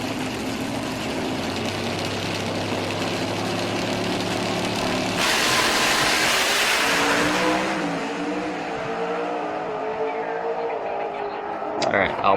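Drag race car with a 13.5-liter engine launching: a rough idle and revving build to a sudden loud roaring surge that fades as it pulls away, with a voice speaking near the start.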